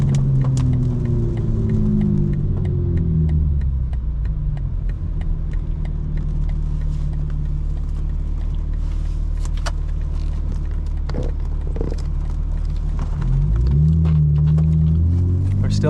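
A 2025 BMW M4 Competition xDrive holds second gear on a track in pouring rain. The engine drones loud and steady from inside the cabin, and its tone rises and falls as the throttle changes at the start and near the end.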